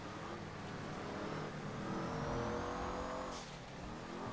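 The Bugatti-style Z-Type luxury classic car in GTA 5 Online gives a continuous engine note that climbs as it accelerates through the gears, rising and falling steadily and ending with a brief shift, with no talk.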